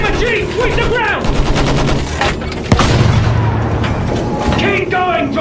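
A machine gun in a World War I battle in Battlefield 1 hammers out loud, close bursts of rapid fire among booming explosions, with shouting voices mixed into the chaos.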